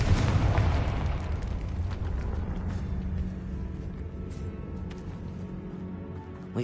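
A Confringo curse explodes in Hogwarts Legacy with a loud, heavy blast at the start, and its rumbling debris and crackle fade slowly over several seconds.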